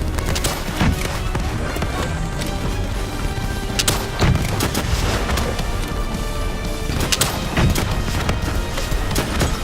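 Continuous gunfire and explosions in Call of Duty: Black Ops III, dense and loud with repeated booms and crashes throughout, while game voices speak over the combat.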